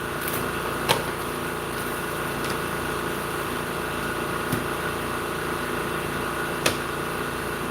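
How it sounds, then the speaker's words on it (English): An air compressor runs in a workshop as a steady engine-like hum, with a few faint, brief clicks over the continuous drone and no talking. "Sorry about the compressor noise."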